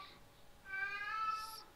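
A house cat gives one loud, drawn-out meow that rises and holds for about a second, close and clear over a quiet room, with no talking.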